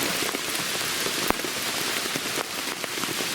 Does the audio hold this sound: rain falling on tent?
yes